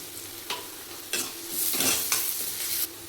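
Chopped onions hit hot oil in a pan for a home-cooked mutton gravy, giving a loud burst of sizzling and frying with several scraping stirs of a spoon against the pan.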